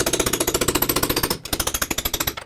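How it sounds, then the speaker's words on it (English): Rapid, loud metallic hammer blows strike a chisel against the ears of an aluminum steering knuckle, driving the lower ball joint out on a 2001-2007 Volvo V70, a fast steady rhythm with a short pause midway. "I'm going to hammer down on these 2 ears here and hopefully drive the ball joint down out of the knuckle"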